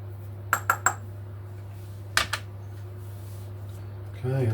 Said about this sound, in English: I'm going to give that a good stir together first before I put it back on the heat